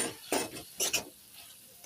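Mashed potato being stirred into spices in a pan, two quick scraping strokes of a utensil with a faint sizzle underneath, close and brief.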